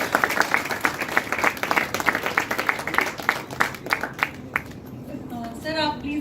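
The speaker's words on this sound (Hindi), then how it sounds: "एक बार जोरदार तालियां हो जाएं" An audience at a formal function applauds enthusiastically, a dense, sustained wash of clapping that thins out toward the end as a voice begins to speak.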